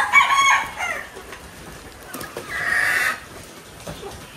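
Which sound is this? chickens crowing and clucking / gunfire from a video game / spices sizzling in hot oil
chickens crowing and clucking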